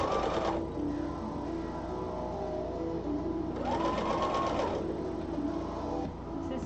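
A sewing machine stitches a hem in two bursts of rapid rhythmic whirring, one at the start and a longer one midway, over a constant background hum, fairly close and steady.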